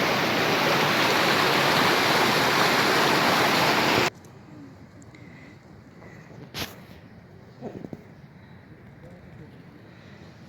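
A partly frozen Belogorka waterfall in spring: roaring water fills the first four seconds loud and steady, then gives way to a quiet outdoor hush with faint, scattered noises.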